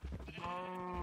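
Minecraft sheep bleat in a farm pen of cows, sheep and pigs, one drawn-out wavering bleat heard close and clear with nothing over it.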